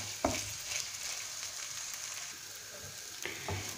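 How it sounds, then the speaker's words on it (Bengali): Soaked basmati rice frying in a pan gives a steady, soft sizzle with a few light stirring knocks, fairly close and with no voices. "চালটা ভাজা হয়ে গিয়েছে"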